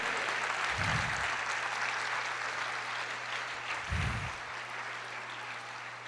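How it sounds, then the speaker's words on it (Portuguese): A church congregation applauds the Lord during a Portuguese-language Bible study sermon on Genesis, a steady, somewhat distant wash of clapping with two brief low thumps breaking in partway through. "Aplauda o Senhor"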